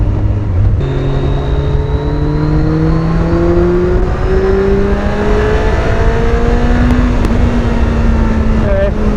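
A Kawasaki Concours 14 motorcycle fitted with a Delkevic exhaust revs up close and loud, its engine note climbing steadily in pitch to about 7,500 RPM before easing off at the end.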